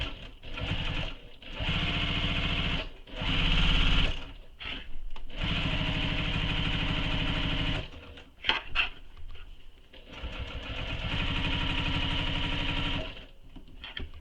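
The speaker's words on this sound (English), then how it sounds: "starting on the side seam, we will do the second row of stitching" A sewing machine runs the second row of stitching along the side seam of a tote bag in loud, close, steady bursts broken by short pauses, with no talking.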